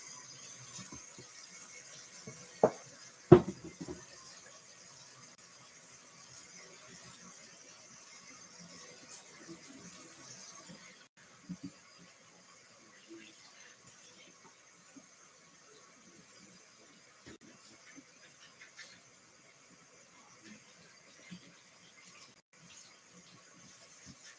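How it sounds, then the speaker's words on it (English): Water runs from a kitchen tap while hands are washed, a steady faint hiss and splash lasting throughout, with a couple of sharp knocks near the start and occasional soft clatter; no talking. "Wash my hands."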